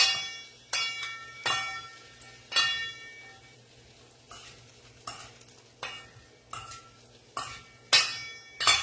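Sauce poured over food in a hot pan, sizzling loudly while being tossed and stirred, with repeated bursts of crackling and scraping at an uneven rhythm, close up and without talk.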